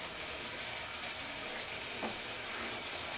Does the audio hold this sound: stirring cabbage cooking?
yes